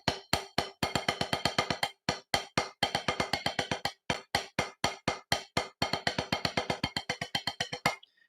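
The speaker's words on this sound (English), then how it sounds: "this is chicken and a roll, which is a very classic drum exercise" A drum kit plays the chicken-and-a-roll practice exercise, fast repeated snare strokes broken into short bursts with brief gaps, crisp and close, with no talking.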